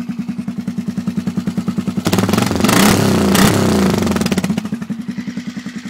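A 2012 Polaris Sportsman 500 ATV with a 6-inch lift idles with a steady loping exhaust pulse, then revs hard for about two seconds into a loud, raspy roar before dropping back to a throbbing idle, close up with no talking.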